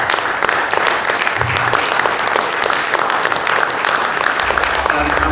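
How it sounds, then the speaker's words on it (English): Audience applause at a conference volunteer appreciation event, dense steady clapping from a crowd filling the room for several seconds with a few low murmurs underneath. "I would like him to stand up and probably take a round of applause."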